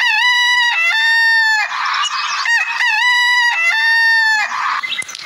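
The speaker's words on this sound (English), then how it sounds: "The cock was crowing." A rooster crows twice in loud, close succession, each call a drawn-out rising and falling cry, with no other sounds around it.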